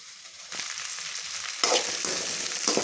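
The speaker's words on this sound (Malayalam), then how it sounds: "അപ്പോൾ സബോളയും പച്ചമുളകും ഇട്ട് കൊടുത്തിട്ടുണ്ട് ഇനി ഇതൊന്ന് ചെറുതായിട്ട് വാട്ടിയെടുക്കട്ടെ" Onions and green chillies sauté in a hot pan with a bright, steady sizzle that swells louder partway through, broken by a few stirring scrapes.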